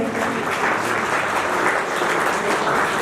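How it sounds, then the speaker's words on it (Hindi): Loud, sustained applause from the audience at an annual alumni meet, thick continuous clapping filling the whole stretch without a break. "भाई तालियों में कंजूसी ना बरतें"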